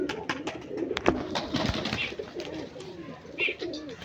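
Several pigeons coo in low, soft, overlapping calls, with scattered rustling and clicks in a busy background.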